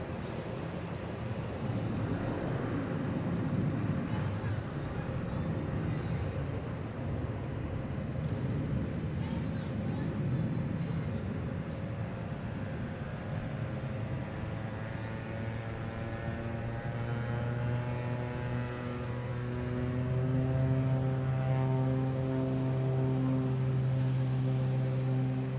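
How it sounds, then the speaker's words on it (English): A Delta Boeing 737-800 airliner takes off from runway 9 at Boston Logan, a loud, sustained roar of jet engines with a rising whine, while a person talks over it. "So we have Delta here, a 737-800, flight 575, taking off on 9,"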